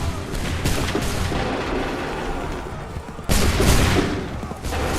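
A massed volley of gunfire in Assassin's Creed 3 Remastered crackles in dense, rolling bursts, with a fresh loud salvo breaking out partway through over a continuous battlefield din.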